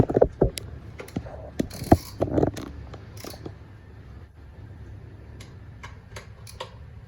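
Screws being driven into a wooden barstool during assembly, heard as a cluster of close, sharp ticks and clicks early on that thin out into quiet room tone.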